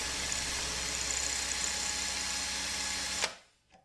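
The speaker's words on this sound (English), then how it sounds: "once again, make sure that the drill is in reverse" Power drill running in reverse to drive a damaged-screw extractor, a steady loud whirring drone that cuts off abruptly, followed by a brief faint clatter.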